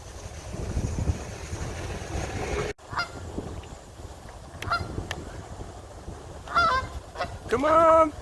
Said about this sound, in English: A goose in the ghetto. What the hell is going on here?